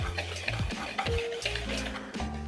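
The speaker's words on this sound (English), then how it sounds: "I'm gonna use my whisk again." Flour, sugar and salt whisked together in a mixing bowl for vegan apple crumble muffins, a busy close scraping and clinking of wire against the bowl in quick repeated strokes, steady and alone.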